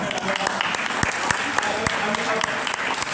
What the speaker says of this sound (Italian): io farei un applauso prima